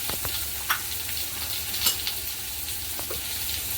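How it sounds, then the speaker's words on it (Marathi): Spiced dosa masala filling with salt, chilli powder and masala is stirred in a hot pan, giving a steady low sizzle broken by a few scraping spoon strokes, close and fairly quiet, with no talking. "चांगलं मिक्स करून घेऊया आपण"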